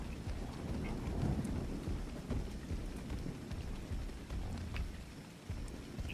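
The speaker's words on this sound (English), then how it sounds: "Oh, the thunder's a little scary as well," Rain and rolling thunder from the video game Ark fill the scene, with steady rainfall hissing throughout and deep thunder rumbling and swelling in the low range, heard alone without talk.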